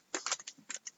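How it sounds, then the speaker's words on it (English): Scissors snip through a 2006 Rack Pack card package in a quick series of short, crisp cuts and crinkles, close and fairly quiet, with no talking. "Got my handy dandy scissors already."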